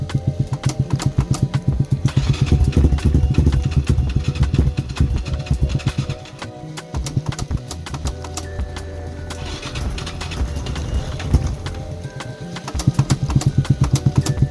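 Lifan ZS175FMN engine on a KP Mini 300 motorcycle, started without choke and left idling: a loud, steady, close rhythmic putter with a brief dip mid-way before settling back to a strong idle.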